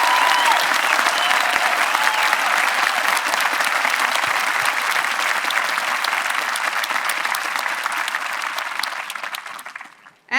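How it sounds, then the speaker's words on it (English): An audience at a high school graduation ceremony applauds the class of 2022, a dense, loud, sustained wash of clapping lasting about ten seconds before cutting off abruptly. "Please join me in applauding the class of 2022 and their efforts."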